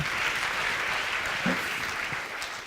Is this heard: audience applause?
yes